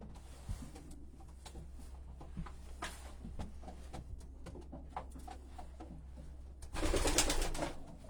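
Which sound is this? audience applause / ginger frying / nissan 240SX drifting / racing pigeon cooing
racing pigeon cooing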